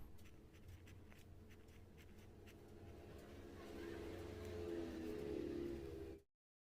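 Pen scratching on board exam answer paper, faint, close strokes in short bursts at first, with a low motor-like hum rising underneath before the sound cuts off.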